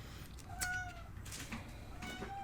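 A cat meows indoors, two or three short, fairly faint cries spaced over a couple of seconds against a quiet room background.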